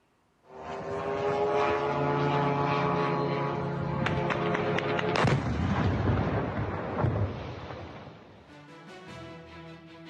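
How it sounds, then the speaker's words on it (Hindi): A Ukrainian drone attack on Kazan: a loud propeller-like engine drone with a steady harmonic buzz, overlaid by a burst of sharp blasts and rumbling booms in the middle before the droning fades. "यूक्रेन ने कजान पर 8 ड्रोन अटैक किए"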